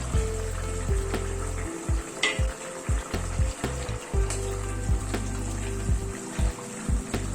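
Pabda fish pieces go into a bubbling yogurt and fried-onion gravy, making a close sizzling simmer broken by repeated low thumps and soft splashes as each piece is added, with no talking.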